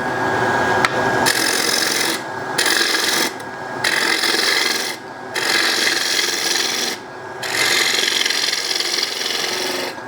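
Woodturning tool cutting a spinning wood piece on a lathe, held on a tool rest set at 45 degrees, giving a loud, continuous rasping scrape in repeated passes broken by short pauses.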